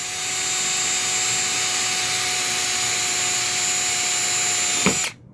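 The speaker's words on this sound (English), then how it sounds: "And I'm drilling at a weird angle to try to keep it on camera." A handheld power drill with a dulled bit bores into PVC for a small DIY aquarium overflow, a steady high-pitched whine running loud and close for about five seconds before cutting off abruptly.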